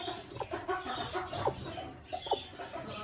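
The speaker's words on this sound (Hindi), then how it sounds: "ये हमारी मुर्गी वाइट कलर की हमारी मुर्गी अंडों को देख रही है" A white Aseel hen near her eggs gives soft, repeated clucks in short irregular bursts, close by, with no voices over them.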